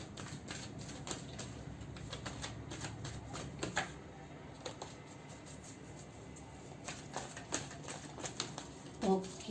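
Soft, rapid riffling and tapping of cards being shuffled, quiet and close, with faint clicks scattered through a low background hiss.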